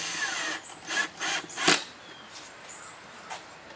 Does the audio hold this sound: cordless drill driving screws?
yes